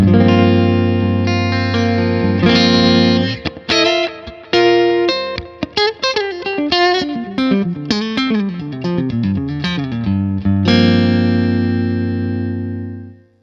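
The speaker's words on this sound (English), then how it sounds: "Absolutely awesome clean tone, really, really, really great." Clean electric guitar through a PRS Sonzera 50 combo amp with a Wampler Ethereal in the loop, glassy, compressed tone: sustained chords ring out, then a run of quick single notes and arpeggios, ending on a long held chord.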